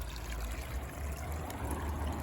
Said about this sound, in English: It's got like a little waterfall on it.